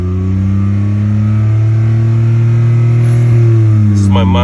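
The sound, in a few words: Honda car engine revving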